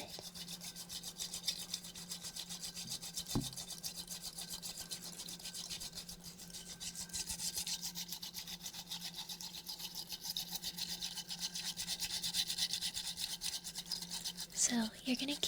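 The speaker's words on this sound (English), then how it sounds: "So you're going to keep whisking that until it is as frothy and foamy as you would like." Real matcha tea being whisked until frothy in an ASMR cafe setting, heard as a close, continuous brisk scratchy whisking that runs steadily through the clip, with a few soft clinks near the end.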